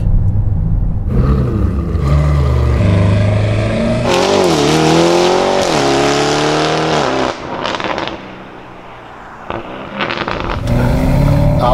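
Lamborghini Urus fitted with a Novitec exhaust accelerating hard on the Autobahn, a loud, sustained engine roar climbing through gears with rising pitch, brief dips at shifts and continuous road rumble throughout.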